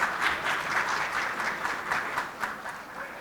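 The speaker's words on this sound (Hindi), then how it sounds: "तालियाँ।" At an annual fire safety awards convention in Pakistan, a crowd gives a steady round of applause for an honoree. The dense clapping runs evenly for about three seconds with slight swells.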